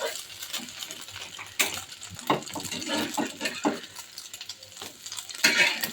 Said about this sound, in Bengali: দুইটা ডিম একসঙ্গে ভেজে নিচ্ছি।